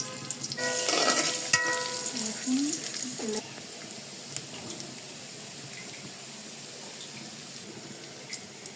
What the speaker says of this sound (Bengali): তেলের মধ্যে রসুন আর শুকনো মরিচগুলো ভাজা আমার প্রায় হয়ে গেছে।